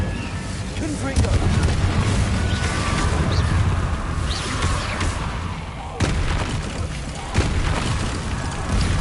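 Confringo fire-blast spell explosions in the PS5 Pro game Hogwarts Legacy: loud, rumbling booms crowd a dense, continuous battle soundscape, with heavier blasts hitting around the middle and again near the end.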